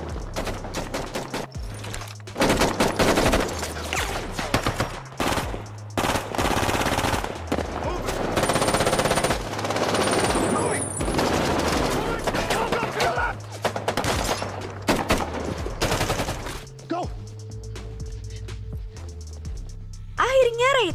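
Rapid bursts of automatic gunfire and volleys of shots in a film gunfight, loud and dense, with shouting voices and dramatic score mixed in, easing into quieter moments near the end.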